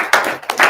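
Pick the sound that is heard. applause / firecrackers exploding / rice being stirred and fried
applause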